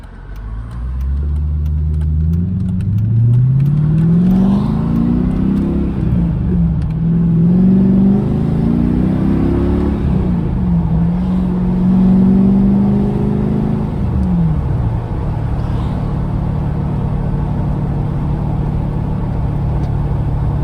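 Mercedes C55 AMG with its M113 engine and swapped six-speed manual accelerating hard, revs climbing and dropping through several gear changes, loud and close, with no talking.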